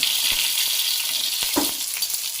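Pieces of fish sizzle steadily in hot oil in a pan, a continuous bright crackling hiss with a few soft clinks and bumps as they are turned.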